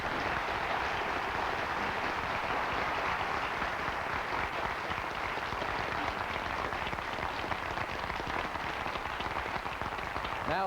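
Audience applause for geography bee finalists at a 1994 national competition, a continuous dense patter of many hands clapping at moderate level, sustained evenly for about ten seconds with no speech.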